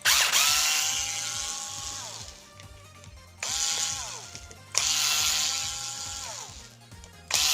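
A power screwdriver whirs in three long, loud bursts as it backs out screws inside an Xbox One X console, with steady motor whine and gear rattle close by.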